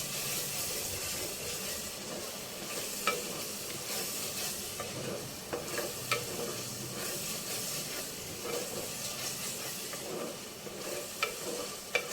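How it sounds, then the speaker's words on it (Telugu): Ginger and garlic frying in a clay pot, a steady close sizzle and hiss with occasional small pops and stirring clinks, no voices. "అల్లం వెల్లుల్లి వేగిపోయిందండి. మట్టి కుండ కదండి, స్పీడ్గానే అవుతుంది."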